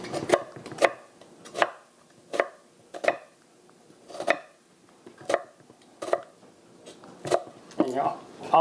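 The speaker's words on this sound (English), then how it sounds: "And you're always going with the veins of the onion so you get nice slices." Knife slicing half of a medium onion on a cutting board. Crisp, evenly spaced chops sound close by, about a dozen of them, and a few come in quicker pairs near the end.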